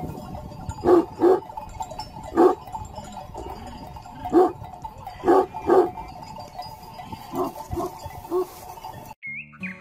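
Several shepherd's flock guard dogs barking in irregular bursts, moderately close, with a low rumble of outdoor winter background between the barks.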